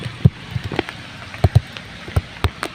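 Rain falling outdoors on banana plants and cassava in a storm, with irregular close drops and heavier thuds against a soft, wind-tinged wash.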